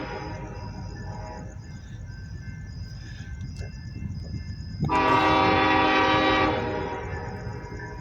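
A westbound grain train comes down the Harrisburg line behind industrial buildings, its horn sounding in repeated blasts over a low rumble that swells sharply as the locomotive draws close, then eases off.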